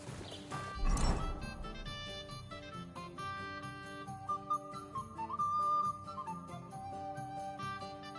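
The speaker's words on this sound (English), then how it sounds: "Stop that whistling." A melodic whistle in Kingdom Come: Deliverance II rises and wavers for a couple of seconds over steady game music, with faint horse hoof sounds underneath.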